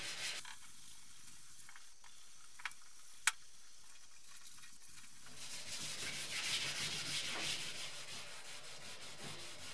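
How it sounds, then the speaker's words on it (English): Abrasive keying of a BMW E30 gas tank before primer gives a close, rhythmic rubbing scuff, quieter with a couple of sharp ticks at first, then a louder, steadier sanding hiss for the rest. "I keyed the entire tank to prepare it for some fresh coats of primer"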